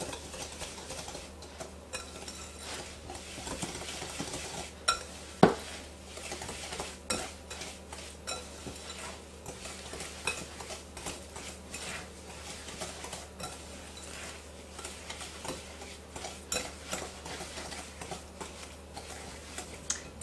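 Melted butter and dark brown sugar for pecan pie are stirred in a bowl, quiet repeated scraping and clinks of a utensil against the sides at an irregular pace.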